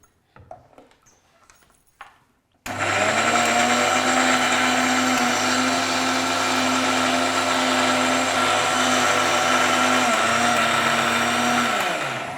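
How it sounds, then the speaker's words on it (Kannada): A kitchen mixer grinder grinds chutney with a little water, starting abruptly after a brief quiet moment and then running as a loud, steady, high whine with a constant motor drone until the end. "ಇದನ್ನು ಮಿಕ್ಸಿ ಮಾಡಿ ಈಗ ಮಿಕ್ಸಿ ಮಾಡಬೇಕು"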